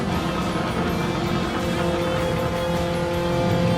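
A fast car's engine in the racing game Gran Turismo 7 holds a steady, loud, continuous drone with a dense harmonic tone, sustained without a break and with no talking.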